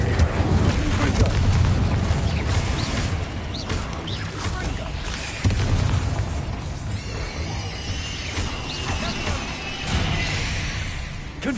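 Confringo fire-blast spell explosions in Hogwarts Legacy, several rumbling bursts and crashes in a busy battle, with blasts roughly every few seconds over continuous noisy combat sound.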